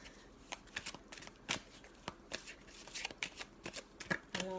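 Tarot cards being shuffled by hand, a string of crisp riffling flicks and soft slaps in an irregular rhythm, close and quiet in a calm room.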